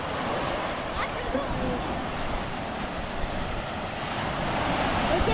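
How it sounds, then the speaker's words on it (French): Ocean surf washes steadily along a Galapagos shore, a continuous broad roar of breaking waves with wind buffeting the microphone and no clear pauses. "Regardez les vagues."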